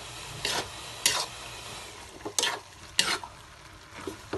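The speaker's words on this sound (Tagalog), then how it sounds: "Then, haluin natin." Ground pork with annatto stirred in a pan on the stove, a spoon scraping and clinking against the metal in several separate strokes over a soft steady sizzle, close and moderately quiet.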